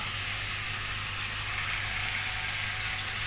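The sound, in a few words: marinated chicken frying in hot oil in a kadai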